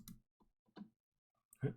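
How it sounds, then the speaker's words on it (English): Soft, sparse computer mouse clicks, about three, close and quiet, as shapes are selected in TinkerCAD 3D design software. "We're going to select the box on the left by left-clicking the shape."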